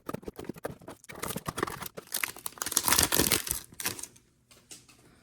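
Packs of 2023 UFC Optic trading cards from blaster boxes being torn open by hand, a dense run of crinkling foil and ripping paper with quick rustles, close and fairly loud, easing off near the end; no talking.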